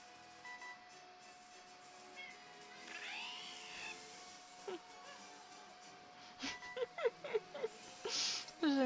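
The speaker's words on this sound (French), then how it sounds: "J'aime bien le chat derrière qui miaule." A cat meows in the background, with faint, brief cries rising over a quiet room hum and louder, choppier meows near the end.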